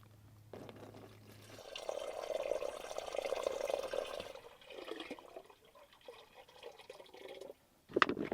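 A gallon of water poured for a van shower at Quartzsite, a soft splashing, gurgling stream running for several seconds, then trickling and dripping before a brief clunk near the end.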